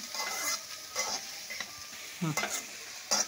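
Broad beans stir-fried in oil in a home kitchen, giving a soft steady sizzle with several scraping stirs of a spoon in the pan, close and moderately loud, with no talking.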